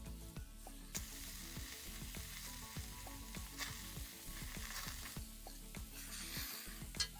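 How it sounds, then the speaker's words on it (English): Lamb shoulder sears in a potjie pot over an open fire, giving a steady, quiet sizzle with repeated crackling pops and a few soft knocks of metal. "Just want to sear that side a little bit."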